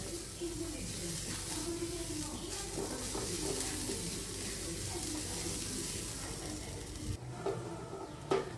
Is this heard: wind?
no